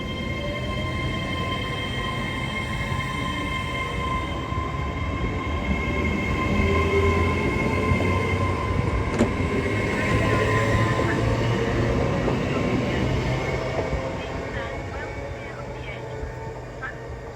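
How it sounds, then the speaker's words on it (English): A train runs through a station platform on the East Coast Main Line at high speed without stopping, a steady loud rumble with rail hiss and faint squeal that swells mid-pass, while a voice talks underneath. "the train's going to be passing at high speed and it's not stopping it"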